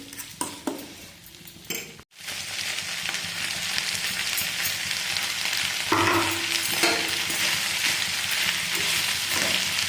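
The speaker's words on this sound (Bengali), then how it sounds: "এবার এটাকে ভালো করে নাড়াবো।" Fried rice with tomato ketchup is stirred in a pan, producing a continuous close sizzle with scraping spatula strokes and occasional light clinks against the metal, after a brief quieter clatter at the start.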